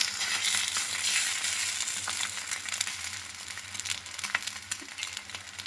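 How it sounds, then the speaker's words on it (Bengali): Egg and bread spread with potato fry in a pan, giving a close, continuous sizzle with light crackles that eases slightly toward the end. "এবার ডিমটা ভেজে নেব এবার ডিমটা দিয়ে দিয়েছি"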